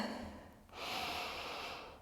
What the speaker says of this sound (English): Take a beautiful breath in here.